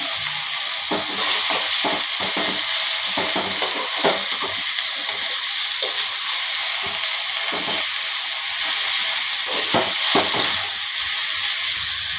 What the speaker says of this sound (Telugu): అప్పుడే వేగుతూనే ఉంది